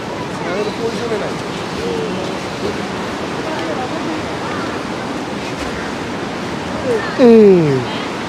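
Water tumbles down the mountainside at Manikaran, a steady broad roar like surf heard from some distance, with voices talking over it.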